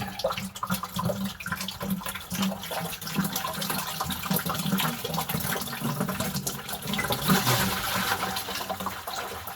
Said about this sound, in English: So that'll drain all the water that was in this Cylinder. reservoir here.